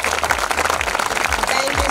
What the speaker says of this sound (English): So please give us a big round of applause for Bijli